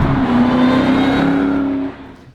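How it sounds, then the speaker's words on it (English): Engine and exhaust note of a supercharged 700 hp Shelby GT500 Mustang, a loud, close, steady deep drone with a sustained high whine that cuts off sharply near the end. "it's got a really great note from the engine and a good note from the exhaust as well."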